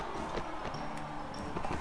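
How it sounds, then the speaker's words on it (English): Horse hooves clip-clop in Mount and Blade: Warband, a moderate steady walking rhythm of soft knocks under a faint tonal game background, with no talking. "Fucking horse."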